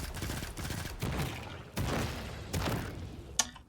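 Pulse rifle in a video game firing loud bursts, with four dense clustered volleys close together, followed by a sharp single crack near the end.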